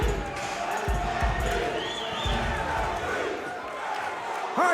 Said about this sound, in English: He has the crowd absolutely on their feet here.